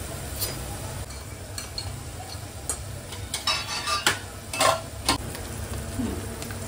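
Spices for mutton biryani sauté in hot oil, a soft steady sizzle broken by scraping stirs and a few sharp clinks of a spoon against the pan, close and fairly quiet.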